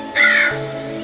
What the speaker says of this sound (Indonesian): kakek tersebut membantu mengusir burung gagak hingga menjadi asap.